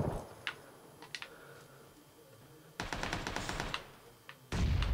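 Bursts of automatic gunfire from a PUBG match in a Vector-focused round: a short burst near the start, scattered single shots, then a long rapid volley and a loud final burst, fairly close with no talk.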